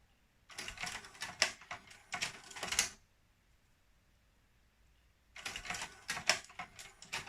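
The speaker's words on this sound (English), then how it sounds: "you'll see exactly how the changer system works when it's trying to look for a disc" Mechanical whirring and clicking from a Pioneer PD-X77M CD changer mechanism as it searches for a disc: two bursts of busy, close motor and clatter, a quiet pause, then another burst of rattling movement.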